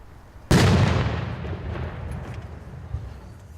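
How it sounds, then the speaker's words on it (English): A single cannon fires in Leicester to signal a two-minute silence at a remembrance gathering, one sudden loud boom followed by a long rumbling echo that fades slowly across the open air. "Cannons fired to signal the 2-minute silence"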